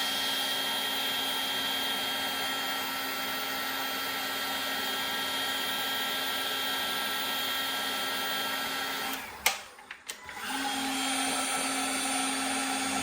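A Milwaukee hot air gun blows a steady, whirring hiss while shrinking heat-shrink tubing on LED strip wiring, cutting off briefly near the end before starting up again.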